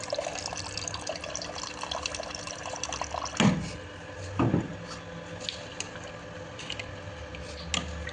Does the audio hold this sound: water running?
yes